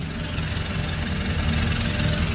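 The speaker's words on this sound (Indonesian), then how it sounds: "Nah ini untuk suara idle dari Paus Jero." A Mitsubishi Pajero Dakar diesel engine idles steadily, a dense low rumble with constant vibration, close and even throughout, with no talking.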